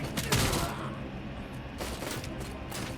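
Gunfire in the video game Robocop Rogue City, a couple of loud, close bursts of shots separated by a short lull.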